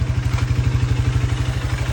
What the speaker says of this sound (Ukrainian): Масло замінив, двигунчик працює